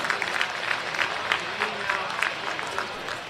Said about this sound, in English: a good round of applause for Cooper Rons.